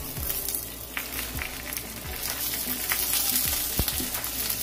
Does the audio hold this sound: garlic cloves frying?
yes